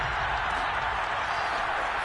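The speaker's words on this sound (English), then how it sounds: "They've got their home crowd into it as well." Home crowd noise at a Lions football playoff game, a steady, dense roar of cheering and applause filling the stadium throughout without a break.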